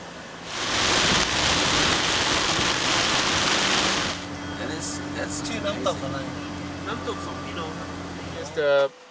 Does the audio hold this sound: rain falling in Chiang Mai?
yes